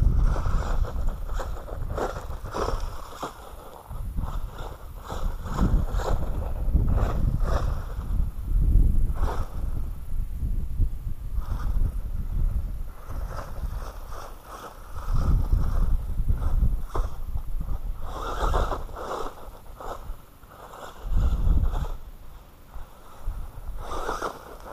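A Wltoys A979B RC truck with swapped gears runs steadily with a continuous buzzing motor whine that surges and eases over about twenty-five seconds, fairly loud and close, with no talking.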